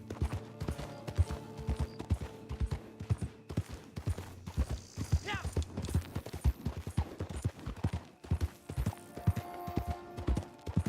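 Horse hooves clip-clop steadily in the video game Red Dead Redemption 2 Online, a close, brisk, regular rhythm of knocks with faint creaking and mechanical sounds alongside.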